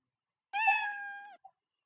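The Scratch cat sprite's meow effect, a single clear drawn-out cat meow followed by a tiny short tail note, sounding alone against silence.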